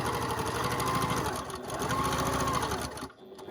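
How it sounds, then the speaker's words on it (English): A sewing machine stitches quilt fabric in quick, steady mechanical bursts, close and prominent, with a short slowdown midway before it stops. "I put my foot down and I sew off the end."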